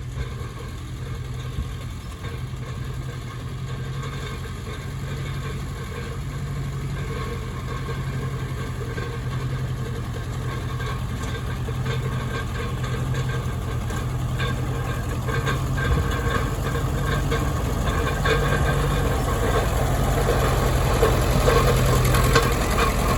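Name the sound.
Ferguson TEA20 tractor engine running while rolling rough field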